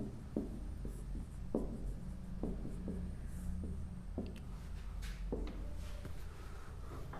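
Chalk or pen marking lines during a class 10 maths lesson on linear equations, a series of short scratchy strokes tapping and dragging at an irregular pace, close and fairly quiet with no talking.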